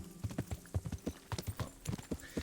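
Rapid clip-clop of horse hooves trotting in a steady, repeating rhythm in the video game Kingdom Come: Deliverance, close and fairly clear, with a brief snort near the end and no talking.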